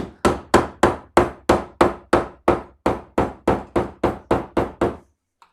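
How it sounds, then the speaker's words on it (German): About fifteen sharp, evenly spaced knocks as wooden boards are tapped firmly down from above while building a tape-roll shelf, each blow loud and close with a brief ringing decay, then silence. "Klopfen die einmal von oben fest."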